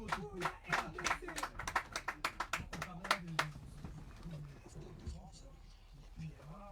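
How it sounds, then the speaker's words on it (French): An audience claps at a public appearance by Fally Ipupa, a quick run of sharp, fairly regular hand claps over the first few seconds that fades out under someone speaking. "Est-ce qu'on peut applaudir pour le stade de Marseille?"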